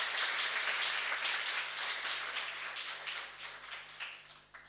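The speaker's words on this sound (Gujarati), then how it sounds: "એમને તાળીઓથી આપણે આવકારીએ" Audience applause welcoming a guest at a Gujarati stage program, a steady wash of many hands clapping that starts full and slowly thins and fades out.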